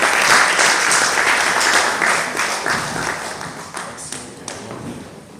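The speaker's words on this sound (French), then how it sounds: "Acclamons très très fort pour la gloire de Dieu." A church congregation at a pastor's anniversary celebration breaks into loud, sustained applause, dense clapping filling the room and slowly tapering off with a few sharper claps near the end.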